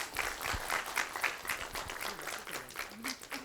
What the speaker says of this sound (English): Okay, great big applause for her.